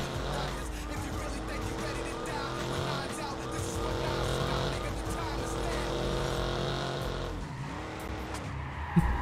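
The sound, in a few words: sports car driving and skidding in the video game Watch Dogs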